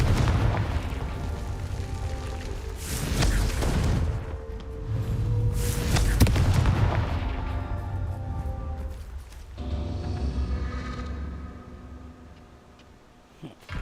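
Confringo blast spell going off in Hogwarts Legacy, a string of loud booming explosions with rumbling low end, two big bursts close together followed by a fading crackle and quieter tail.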